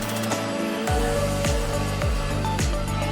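A Xiaomi car vacuum cleaner switches on in blow mode, its motor spinning up with a rising whine and then settling into a steady, loud, close airflow roar.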